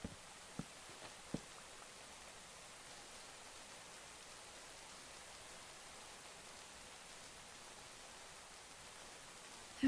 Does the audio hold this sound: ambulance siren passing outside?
no